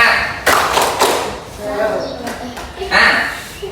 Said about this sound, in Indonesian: Kita coba tepuk semangat dahulu lah ya, supaya semangat.